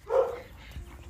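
A dog gives a single short bark near the start, fairly close, followed by quieter low rumbling background sound; no one speaks over it.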